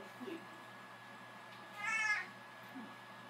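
A cat gives a single short meow at moderate distance, standing out briefly over a steady low room hum with faint background sounds.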